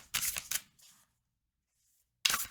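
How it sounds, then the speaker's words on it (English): Tarot cards get shuffled in short, crisp riffling bursts, two quick flurries close together, a pause of near silence, then another riffle, close by with no talking. "Last shuffle."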